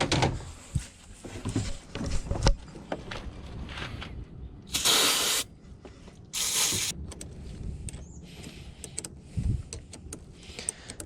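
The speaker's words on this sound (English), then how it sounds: "use some cleaner to clean up this ground cable here" Short bursts of aerosol cleaner sprayed onto a car battery's ground cable, two distinct hissing blasts a second or so each, close and fairly loud, amid handling clatter and clicks.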